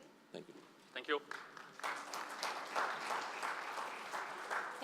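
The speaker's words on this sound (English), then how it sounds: "We can hear a slightly louder applause, can't we?" Audience applause after a talk, with steady sustained clapping building to a moderate, even roar.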